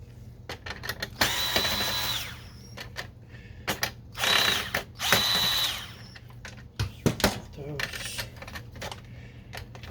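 A power screwdriver removes screws from the output tray of an HP ENVY 4520 printer, with several whirring bursts of a few seconds each, close and loud, among clicks and handling noises.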